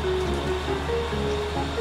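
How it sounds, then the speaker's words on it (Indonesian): Rain falling in the Bus Simulator Indonesia driving game, a steady close hiss of rainfall with a faint low engine hum and a few thin tonal tones running underneath, no talk. "Hujan nih teman-teman."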